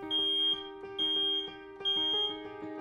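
A residential smoke alarm sounds its fire-safety warning in three loud, piercing beep bursts, each about half a second long and evenly spaced, with no talking.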